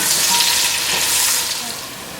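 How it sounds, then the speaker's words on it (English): Chopped onion fries in hot oil for mutton yakhni pulao, giving a steady, close broadband sizzle with light crackle that eases slightly toward the end, with no voices. "we're gonna fry this onion until it becomes light golden brown."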